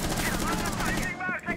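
Rapid automatic gunfire in Rainbow Six Siege on the Coastline map, a fast burst of close, harsh shots in quick succession.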